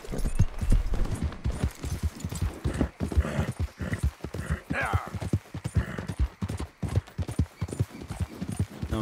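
Horse hooves clip-clop steadily in Red Dead Redemption 2, a continuous rhythmic clatter of a ridden horse that stays close and prominent throughout, with a brief whinny-like sound partway and occasional talk over it.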